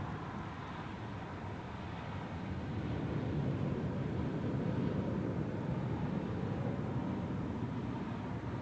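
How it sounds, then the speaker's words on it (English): A Swiss Boeing 777 at Zurich Airport produces a steady, distant jet roar that swells slightly midway and holds as a broad, even rumble. "And here we have the first one, and actually the second Swiss 777 today and the third in total."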